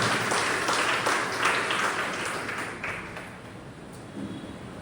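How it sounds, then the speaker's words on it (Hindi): A church congregation claps together for several seconds in a broad, steady wash of hands that slowly thins toward the end, with no talking over it. "Can we put our hands together"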